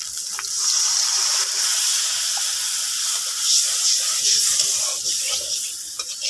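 Water poured into a pan of sizzling ground spices, including coriander powder, being cooked down for a hilsa fish and flat bean curry, giving a steady close hiss and gush throughout with no talking.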